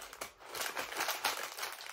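Crinkly plastic packaging of Halloween candy shaped like an eye and a jaw crackles and rustles continuously as it is handled and opened, close to the microphone and moderately loud.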